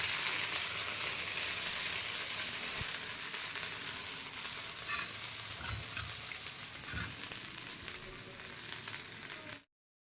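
Dosa batter of rava, wheat flour and rice flour fries on a hot pan with a steady, close, even sizzle, fading at the end.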